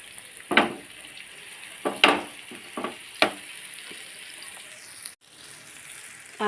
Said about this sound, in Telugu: ఇలా ఫ్రై అవనిద్దాం కొంతసేపు.